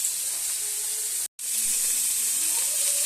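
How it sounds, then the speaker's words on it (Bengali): Beans and carrots frying in a kadai give a steady, close, loud hiss that fills the whole stretch, broken by one brief silent gap near the middle. "ভেজ ডালটা করার জন্য বিনস আর গাজর ভাজা বসিয়ে দিয়েছি কড়াইতে।"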